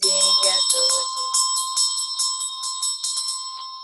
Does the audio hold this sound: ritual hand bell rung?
yes